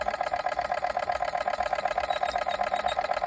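A Machinator Steamfire steam engine runs steadily with a fast, even mechanical chuffing and whirring, close and continuous, with no talk over it.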